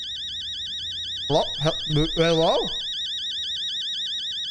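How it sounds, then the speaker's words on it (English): An electronic alarm in the horror game Fears of Fathom: Home Alone rings without pause as a steady, warbling high tone, while a man calls out briefly over it partway through. "turn that alarm off!"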